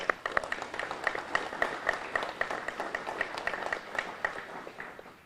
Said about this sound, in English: Please give those guys a round of applause.